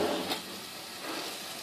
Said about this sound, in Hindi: सबसे पहले हम फ्राई पैन के अंदर 2 चम्मच हमने ये मक्खन के डाले हैं